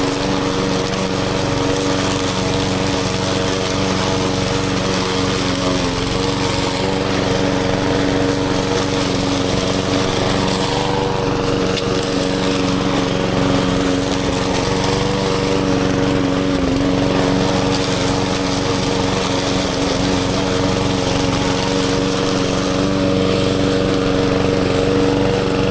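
A small lawn mower engine running continuously for the whole stretch, a loud, close, steady drone with an even hum and no voices.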